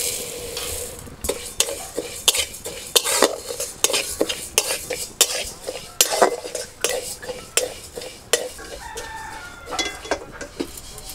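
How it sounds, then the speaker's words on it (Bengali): Moong dal dry-roasting in a dry kadhai is stirred with a spatula, giving a rhythmic series of sharp scraping and rattling strokes over a faint dry sizzle, close and steady. "এখন মুগের ডালটা শুকনো কড়াইতে একটুখানি ভেজে নেব"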